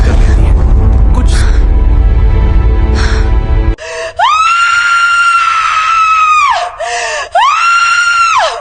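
A woman in a Hindi horror story screams loudly in long, sustained, wavering cries, two of them stretched out after a noisy, breathy opening, close and dominant.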